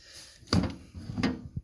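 Two wooden sliding thumps close by, like a drawer of a welding and machinist toolbox being pulled open and pushed, with a short knock after, in a quiet room.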